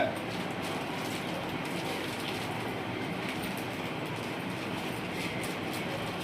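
A low-priced packing machine runs at full speed, giving a steady, dense mechanical clatter that holds level throughout with no pauses and no talking.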